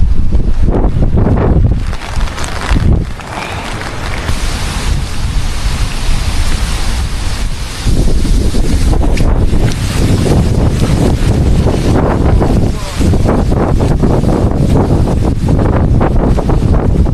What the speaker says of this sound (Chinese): 外面狂风暴雨的